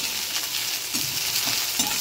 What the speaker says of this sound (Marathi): भेंडी चारी बाजूने भाजून घ्यायची पूर्ण, चांगली नाही पाहिजे खाली कढईला, थोडीशी नरम करून